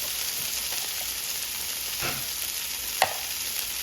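Meatballs frying in a crowded skillet, a steady close sizzle throughout with a brief clink or stir sound near the end.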